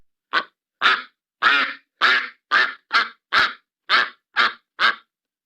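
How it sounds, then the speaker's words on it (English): Ten evenly spaced duck quacks added as a sound effect, each a short loud burst standing alone against silence. "Put a quack in there."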